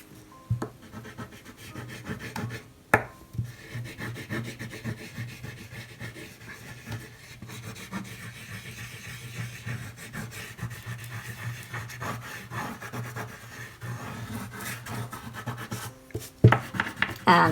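Wax Crayon Rocks rubbing and scratching across paper in broad side strokes and finer tip strokes, a steady close, soft scraping texture with brief louder scratches and no talking.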